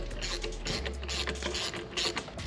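A ratchet works loose the rear shock bolt on a Harley-Davidson M8 Street Bob during teardown, giving a steady run of close mechanical clicking and grinding over a low background hum.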